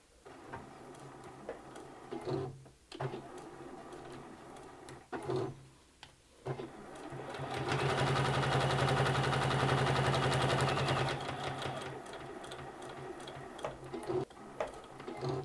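A home sewing machine stitches around the edge of a hexagon mini quilt, whirring steadily for a few seconds in the middle, with quieter handling sounds and brief fabric movements before and after.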